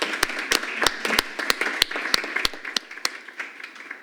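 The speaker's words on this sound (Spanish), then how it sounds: "Un aplauso." Applause from an audience at a talk on the challenges of decarbonising Europe and cultural heritage, with a few loud, distinct claps standing out at a regular pace over a softer spatter of scattered clapping.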